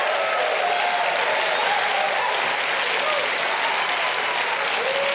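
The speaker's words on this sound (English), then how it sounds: "that is a cheap and shameless way to get the audience to really applaud" A studio audience applauding at a television show, dense sustained clapping near and loud for several seconds with a few faint voices and whoops mixed in.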